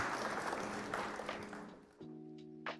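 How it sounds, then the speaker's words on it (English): A short burst of clapping from a small group after a Flesh and Blade card game match fades out, followed by a brief musical tone. "Round of applause for our opponent on KO, Vibing Dao."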